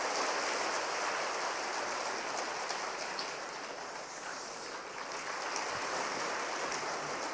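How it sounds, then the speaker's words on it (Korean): A Korean church congregation applauds during a Sunday worship service, a dense, even wash of many hands clapping, fairly soft and distant, sustained without a break for about seven seconds. "뜨거운 박수로 우리 축하하십시다."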